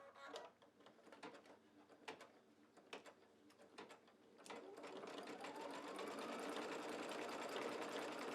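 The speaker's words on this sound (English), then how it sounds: "I put the wing needle in the machine and use the same thread in the needle and in the bobbin" An embroidery sewing machine stitches with a wing needle and matching thread in needle and bobbin, giving a few sparse mechanical clicks at first, then a steady, loud whirring hum that runs continuously to the end.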